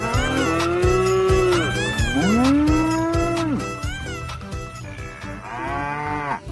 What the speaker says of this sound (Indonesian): Ini ada sapi belang.